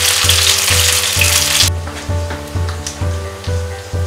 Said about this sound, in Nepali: फेरि यस्तै रातो हुने बेलासम्म केही बेर फ्राई गर्ने यसलाई